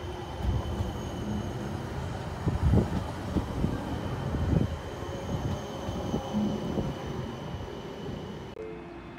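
A passenger train at Skierniewice station rumbles and clanks with a low steady roar and scattered metallic knocks, fading into a quieter hum at the end.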